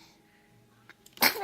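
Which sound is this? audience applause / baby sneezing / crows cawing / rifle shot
baby sneezing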